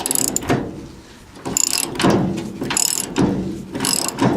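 A hand ratchet works loose the carriage bolts on a 1977 Chevrolet C10, making close, loud bursts of quick clicking repeated about four times with short pauses between strokes.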